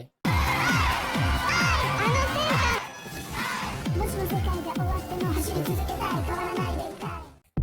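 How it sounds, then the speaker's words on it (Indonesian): A concert crowd at an idol group's show roars and chants in rhythmic bursts, loud and close, with massed shouting voices repeating a steady beat-like cry throughout. "melihat grup idol sedang bernyanyi. Dan seperti biasa, selalu disoraki dengan teriakan, "Oi, oi, oi.""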